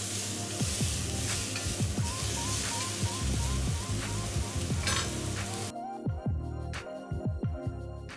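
Beef steak sears in a hot frying pan with a dense, crackling sizzle full of rapid pops and spits, loud and close, briefly interrupted by a soft handling clatter before the sizzle carries on.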